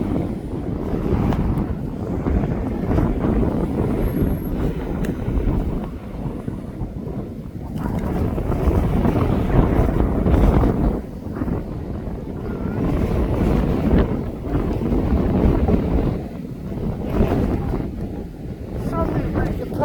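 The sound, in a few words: wind blowing on the camera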